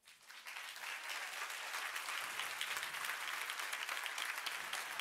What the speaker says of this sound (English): And the clap is for you.